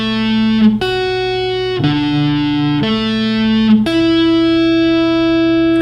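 An electric guitar plays a rock lick combining sweep picking, hybrid picking and string skipping, with sustained, slightly driven notes that shift pitch every second or so and ring out cleanly, without any talk.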